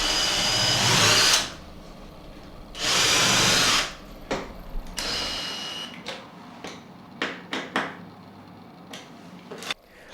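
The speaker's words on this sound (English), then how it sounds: "Then can drill the screws with a centre finding bit and add a screw in." A power drill fitted with a centre-finding bit drives screws for wardrobe door hinges, with two sustained whirring bursts followed by scattered clicks and knocks of handling nearby.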